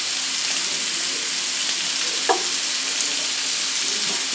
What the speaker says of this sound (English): Whichever ones are turning pink, go ahead and flip them so they can cook on the other side.